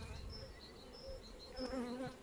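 Honeybees buzz around beehives in a steady, continuous drone of many wings, moderately close, with faint higher whines drifting in and out and no talking.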